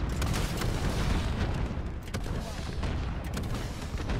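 Gunfire in Call of Duty Modern Warfare on a new free multiplayer map, a dense, loud barrage of shots and booming blasts layered over constant battle noise, with sharp cracks standing out throughout.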